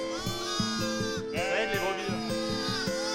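A ewe bleating to call her lamb on a farm, with repeated wavering bleats from nearby and other sheep calling over one another in a dense, continuous chorus.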